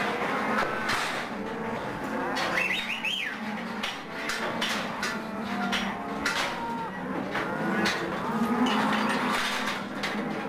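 Cattle lowing at a farm during a vaccination day, with several moos among clattering knocks and barn activity, moderately distant and mixed with background noise.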